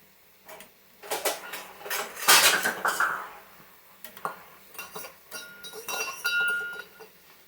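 Metal dishes and a strainer clink and clatter while melted mixture for wheat flour kesari is poured into another bowl, with irregular close knocks, scrapes and rattles rising and falling.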